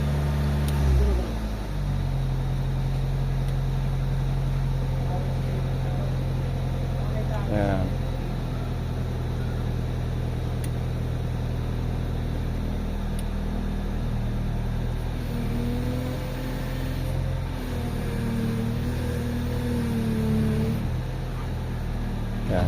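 A Honda Civic FD with a long-standing idle problem runs at idle with the air conditioning switched on, a steady low engine hum and blower drone throughout, with someone briefly speaking over it.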